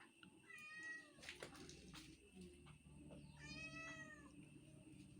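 Kittens meowing and crying for their mother cat, two clear rising-falling cries close by, one early and one near the end, with faint background noise between.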